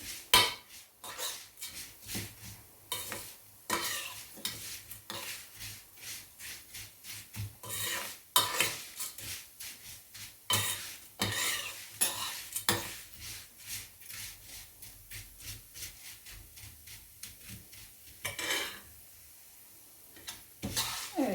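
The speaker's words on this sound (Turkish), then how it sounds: "gördüğünüz gibi eriştelerim artık kızarmaya başladı. Biraz daha kızarsın." Erişte noodles frying in a pan, stirred with a utensil that scrapes and clinks against the metal in quick, irregular strokes over a faint sizzle, close and fairly quiet.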